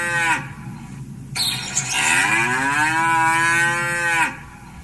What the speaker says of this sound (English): I spy something that says moo. I bet you guessed a cow.